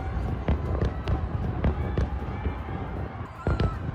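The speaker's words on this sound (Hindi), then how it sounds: "ईरान की राजधानी तेहरान में कई जगहों पर आतिशबाजी हुई है।" Sharp booming firework pops burst out every half second or so over a rumbling crowd din in Tehran, Iran, the explosions fairly close and loud against the chatter.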